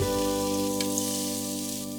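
Food shallow-frying in a generous amount of oil in a very small frying pan, a steady close sizzle that continues on its own without pause for the whole stretch.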